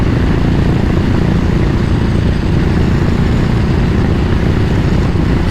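Royal Enfield Continental GT motorcycle engine holding a steady drone at about 3,500 rpm while cruising near 65 mph, loud and continuous with wind rush, no talk.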